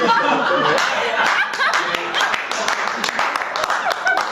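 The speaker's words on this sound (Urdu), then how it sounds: "جب وہ اپنا سیدھا ہاتھ اٹھائیں تو ناظرین تالیاں بجائیں گے" Studio audience on a Pakistani dance show clapping on cue, sharp individual claps standing out over scattered laughter and talk.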